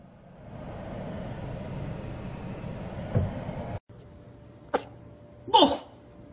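A single sharp sneeze bursts out near the end, preceded by a low rumbling background and a brief click, in an otherwise quiet indoor setting.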